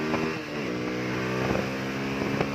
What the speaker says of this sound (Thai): โอ้รอบขึ้นดีมาก